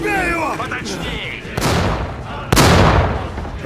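In a war film battle between American Sherman tanks and a German Tiger, a tank cannon fires armor-piercing shells: two loud, sharp blasts about a second apart, each with a booming tail, after tense shouted voices.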